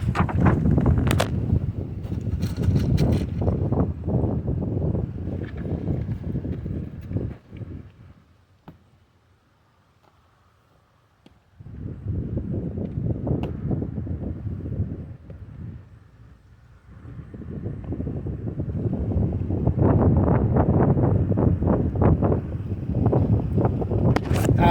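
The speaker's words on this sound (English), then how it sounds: "Now it is a touch windy today" Gusty wind at an outdoor shooting range buffets the microphone in loud roaring bursts, dropping to near quiet twice before building again.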